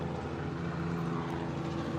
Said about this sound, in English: It's so rooftop that I can see the helicopters going by.